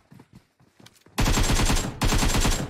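An AKM rifle fires in a battle royale video game, a few scattered distant shots followed by loud, close full-auto bursts of rapid gunfire with a brief pause between them.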